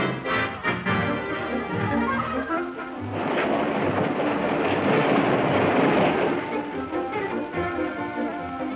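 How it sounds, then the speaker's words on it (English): A train thunders along the rails with a dense, roaring rumble that swells in the middle and stays loud and continuous, like a heavy passenger train rolling at speed. "The train is thundering across the continent."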